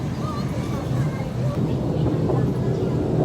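A steady rumbling light rail train passing close by, with continuous mechanical drone and faint squeals throughout, and background voices mixed in.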